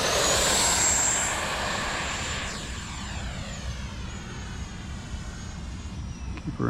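An E-flite F-16 Thunderbirds 70mm ducted-fan RC jet roars loudly overhead on its maiden flight, a steady high-pitched whine that shifts in pitch as it passes and recedes, with no talking.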